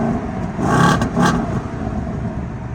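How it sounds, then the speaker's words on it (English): A Ford Mustang S650 engine revs on remote start from outside the car, with two quick, moderately loud blips close together followed by a steady idle hum. "You get the remote rev."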